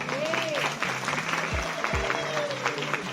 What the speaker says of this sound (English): I think that deserves a round of applause.